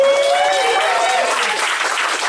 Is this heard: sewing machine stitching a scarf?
no